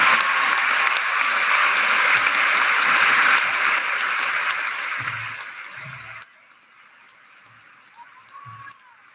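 Graduation ceremony crowd applauds summa cum laude honors students, a loud dense roar of clapping that fades out over several seconds, leaving a few scattered claps and quiet room noise.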